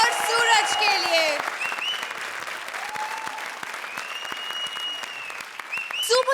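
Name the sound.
audience applause on a comedy show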